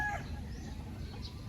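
A chicken clucks briefly at the start over a low rumbling outdoor background, with faint rustling afterward.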